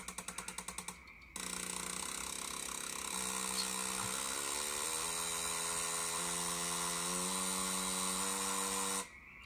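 An engine with Bosch L-Jetronic injection and its rev limiter bypassed is held at high revs, a loud steady droning whine that climbs in steps, opening with rapid pulsing bursts and cutting off abruptly near the end.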